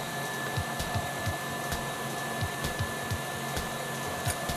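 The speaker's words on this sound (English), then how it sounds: "Now we're going to keep whipping this until we get it to a nice soft peak stage." An electric mixer steadily whips egg whites with cream of tartar toward soft peaks, a constant motor whine with a rhythmic beater thump against the bowl, and no voices.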